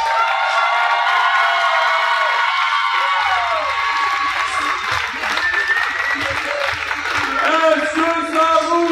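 A crowd at a pro wrestling event, the 2019 intercontinental championship, applauds and cheers steadily and loudly throughout, with scattered whoops and shouts rising over the clapping.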